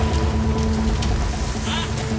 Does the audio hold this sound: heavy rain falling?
yes